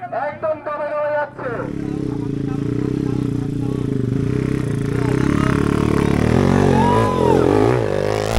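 Off-road racing motorcycles at a Bangladeshi competition hold a steady, loud engine drone that swells slightly as they prepare to set off, with people talking over the noise.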